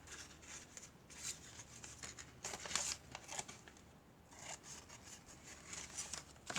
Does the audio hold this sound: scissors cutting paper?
yes